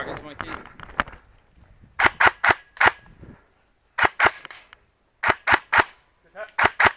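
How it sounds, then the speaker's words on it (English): Airsoft gun shots striking targets on a course, sharp loud cracks fired in quick pairs and bursts with pauses between, and people talking briefly at the start. "Good hit. Good hit. Two targets, Mikey, in the far. Hit. Hit. Good hit"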